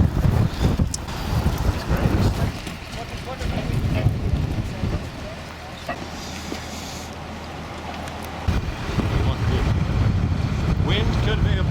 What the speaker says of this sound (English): currently the wind has picked up